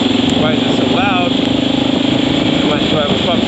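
A Honda XR650L dual-sport bike sits idling, its exhaust overly loud from worn-out packing, producing an even, rapid chugging drone up close as a voice speaks over the engine.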